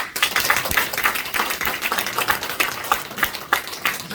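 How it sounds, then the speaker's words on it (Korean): A crowd claps in a brisk, dense patter of many hands, continuing steadily for several seconds without voices. "박수 한번"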